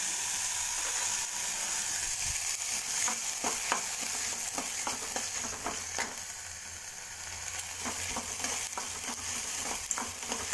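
Moong dal shallow frying in a pan gives a continuous close sizzle and hiss, broken by frequent scraping stirs and light clinks, steady throughout with no voices.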